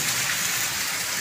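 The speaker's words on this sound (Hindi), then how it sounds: "देखो दोस्तों बारिश हो रही है, कितनी तेज बारिश हो रही है ना।" Heavy monsoon-season rain pouring down outdoors, a dense continuous hiss of drops striking surfaces, loud and close with no talk.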